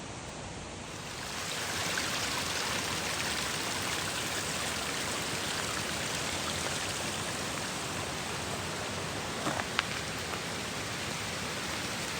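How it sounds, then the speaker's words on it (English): A constant, broad roar of rushing water from waterfalls in the Jefferson National Forest, steady and full throughout with no voices, one small knock near the end. "There's waterfalls everywhere you look,"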